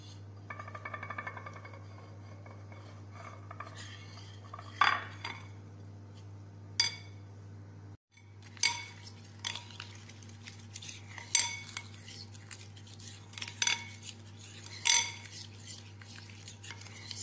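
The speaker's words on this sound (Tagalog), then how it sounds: "lagyan din natin ng 1/3 cup ng water. At haluin lang natin." A spoon stirs water into a sweet potato mixture in a bowl, with repeated metallic clinks and scrapes against the bowl over a low steady hum.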